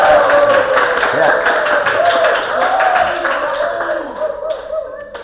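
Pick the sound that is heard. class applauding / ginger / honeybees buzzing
class applauding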